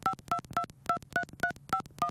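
Telephone tones on a call to a VA veterans' phone line, eight short repeating two-tone pulses in a steady even rhythm, clear and fairly close with no talking.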